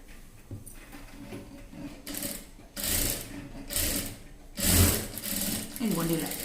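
A sewing machine stitches a child's frock in a series of short whirring runs. The runs start and stop several times, close and fairly loud, with a voice speaking between and over them.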